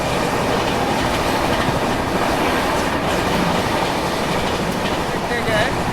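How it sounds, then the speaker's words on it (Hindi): An Andhra Pradesh Express train rumbles past at a crossing, a loud, steady roar of wheels and carriages with clickety-clack and occasional squeal, continuous throughout. "हमारी आंध्र प्रदेश एक्सप्रेस की क्रॉसिंग आंध्र प्रदेश एक्सप्रेस से ही होने वाली है"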